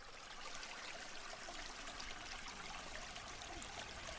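Soft, steady trickle of flowing stream water along a creek by an apartment back path, faint and continuous, with no other sounds.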